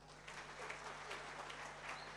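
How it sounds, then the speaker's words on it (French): An audience at a corporate event hall applauds steadily, a dense wash of many hands clapping at a distance, fairly faint throughout. "Applaudissez pour lui."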